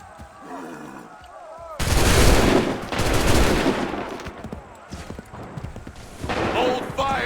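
Musket volleys crackle in Assassin's Creed III, bursts of loud, dense gunfire between shouted commands, with rumbling and hooves beneath.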